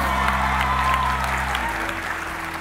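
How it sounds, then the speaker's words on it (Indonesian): A crowd at a magic show claps steadily and loudly throughout, with a broad continuous patter of hands and a faint hum underneath. "Kasih tepuk tangan"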